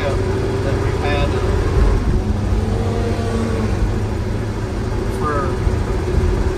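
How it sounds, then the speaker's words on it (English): A 1948–49 Studebaker pickup truck engine idles with a steady low rumble close by, while someone talks over it throughout. "This is the 49 Studebaker, 48 49 Studebaker pickup that we've had"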